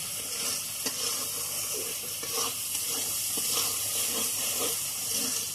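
Chili powder and water sizzle and hiss steadily in a hot pan while jackfruit curry cooks, with occasional stirring scrapes and faint clinks and no talking.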